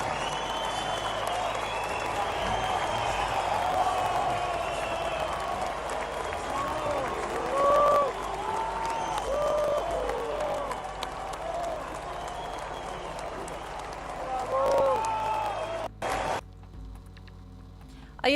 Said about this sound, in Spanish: hubo silbidos, hubo aplausos también para el presidente, una cosa medio mezclada